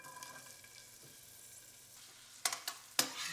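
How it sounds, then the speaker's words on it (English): Onions sauté quietly in extra virgin PDO Kalamata olive oil, a faint, soft sizzle broken by two sharper utensil scrapes against the pan near the end. "I'm going to sauté my onions and garlic."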